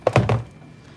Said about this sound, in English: Oh, drop my zipper.